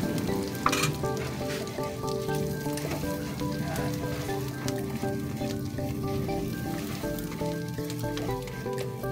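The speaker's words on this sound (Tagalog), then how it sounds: "Ayan guys, halo-haloin na natin." Salted egg shrimp sizzles steadily in a pan as it is stirred, a continuous close frying hiss with occasional spoon scrapes and no talking.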